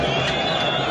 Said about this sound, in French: Et il bat à contre-pied avec les applaudissements du public qui salue.